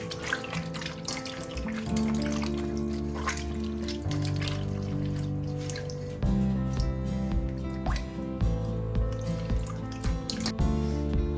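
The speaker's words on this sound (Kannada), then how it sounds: "ಈಗ ಚೆನ್ನಾಗಿ ಕಿವುಚಬೇಕು." Wet squelching and dripping from hands squeezing ripe mango pulp in water, steady and close, with occasional splashes and no talking.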